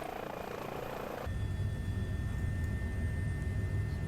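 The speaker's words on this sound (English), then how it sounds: "Well, you are in a helicopter." Helicopter flying in a flight simulator, a steady engine and rotor drone with a low rumbling throb that starts abruptly and holds loud and constant, a faint tonal whine riding on top.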